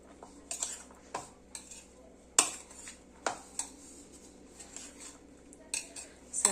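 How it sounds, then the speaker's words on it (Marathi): Corn chaat being mixed in a bowl, a spoon clinking and scraping against the dish in irregular bursts, close and fairly quiet, with no talking. "हे व्यवस्थित असं मिक्स करून घ्यायचे"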